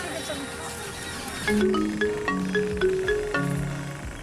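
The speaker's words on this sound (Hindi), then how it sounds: "ई त माई के मोबाइल है, माई के मोबाइल में फोन है।" A phone ringtone plays a repeating melodic chime pattern, starting about midway through after a stretch of background noise.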